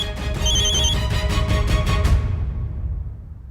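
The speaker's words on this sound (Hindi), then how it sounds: "जिसका फोन बार बार आ रहा है।" A telephone rings in repeated bursts, a bright, steady electronic ring that stops abruptly partway through, over low room rumble.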